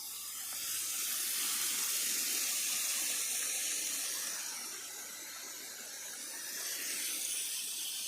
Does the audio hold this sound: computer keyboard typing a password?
no